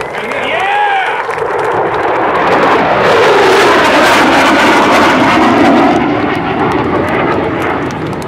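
A Boeing F/A-18F Super Hornet jet roars loudly and continuously at the Great New England Airshow, its broad engine rumble swelling and sustained throughout while a faint announcer voice sits beneath it.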